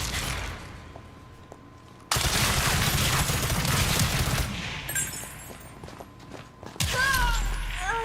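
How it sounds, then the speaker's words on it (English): Rapid bursts of video game gunfire from zombies and soldiers, loud sustained automatic volleys broken by short pauses, with footsteps and mechanical clatter in between. "So we get zombies and soldiers shooting at us"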